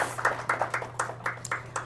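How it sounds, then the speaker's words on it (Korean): Audience at a business seminar clapping in a short, regular burst of distinct claps, moderately loud against a low steady hum, with no talk over it. "박수 한번 주세요."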